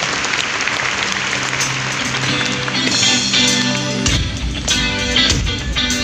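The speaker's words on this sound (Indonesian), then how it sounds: "Mari bersama-sama kita tepuk tangan, bersuka cita lah bagi Tuhan." A church congregation claps together in praise during a worship service at Graha Bethany Nginden, with steady dense applause over music backing throughout, loud and close.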